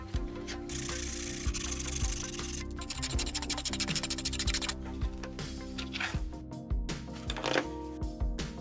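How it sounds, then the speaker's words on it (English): Excess glued wood being trimmed on a homemade clamp, a continuous close scraping and rubbing with shifting, gritty texture and a few sharper knocks. "Trim off excess glued wood."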